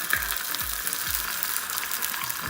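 Garlic and onion frying in a hot pan for keto pasta sauce, a steady close sizzle with a few low knocks as the food is lifted and stirred.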